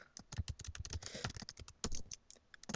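Quiet, rapid typing on a computer keyboard, with irregular clusters of key clicks and a few louder taps, close by and with no one speaking.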